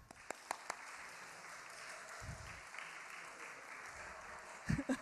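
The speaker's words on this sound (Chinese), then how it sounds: "我们以热烈的掌声来欢迎他" A church congregation at Sunday worship gives a guest pastor a warm welcome with applause, a soft, distant wash of clapping under room noise, with a few sharp knocks and a low thump.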